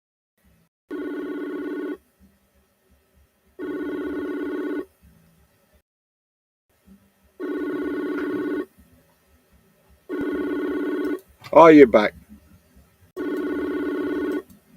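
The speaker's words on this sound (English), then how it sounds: "Ignore that phone call." A telephone rings in five evenly spaced, steady electronic bursts with quiet gaps between them, and a voice speaks briefly over the fourth ring.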